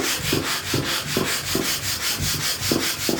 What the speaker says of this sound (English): now I'm just going to lightly sand it to finish it off